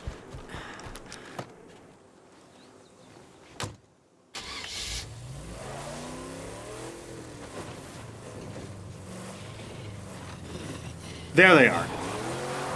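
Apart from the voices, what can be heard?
car starting and driving in video game State of Decay 2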